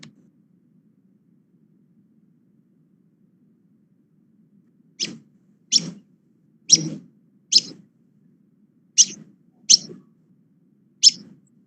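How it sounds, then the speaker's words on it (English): A paddy field pipit gives seven sharp, separate chip calls at a steady pace, each short and clear, over near silence with a faint low hum. "So this is a typical call of a paddy field pipit, like just a chip, chip, chip."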